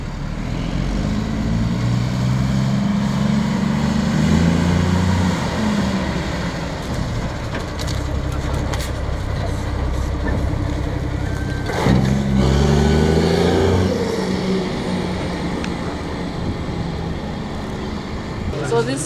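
Military vehicle engine in Somalia, running loud and close with a heavy rumbling drone and shifting roughness, a person talking over it at times.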